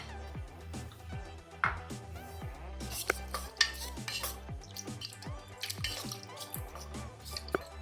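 Chinese potato pieces dropped into a pot of simmering pork curry, a string of wet plops, squishes and spoon scrapes against the pot, close and moderately loud with uneven rhythm.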